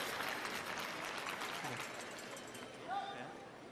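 A curling crowd breaks into applause and cheers, a dense burst of clapping that slowly fades. A commentator's voice talks over the end.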